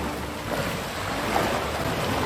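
Ocean waves breaking against the shore, a steady broadband wash of surf with wind noise, continuous and fairly loud with no talking.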